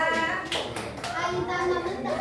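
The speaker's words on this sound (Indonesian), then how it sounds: "Tepuk tangan dulu buat teman kita" Children's voices chatter and call out in a classroom while a few scattered hand claps break through, brief and uneven rather than sustained applause.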